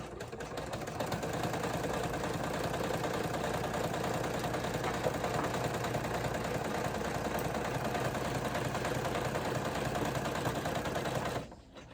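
Embroidery machine tacking down the top panel of a fabric pouch in the hoop, a steady fast mechanical stitching whir running continuously up close, then stopping abruptly at the end.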